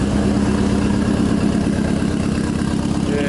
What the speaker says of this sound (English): it sounds horrible because of the open downpipe, but it runs now